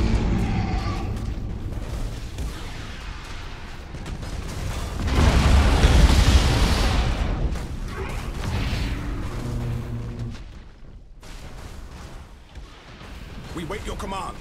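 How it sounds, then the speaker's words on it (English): Thunderhawk bombardment in the space strategy game Battlefleet Gothic Armada 2, heavy rumbling explosions swelling to a loud roar midway, then fading, with mechanical hum and spoken voice lines around them. "Initiate Thunderhawk bombardment."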